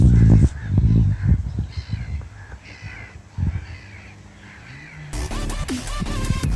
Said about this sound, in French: Mais pourquoi mouette rieuse? Apparemment, ça vient de ses cris, qui font penser à des ricanements.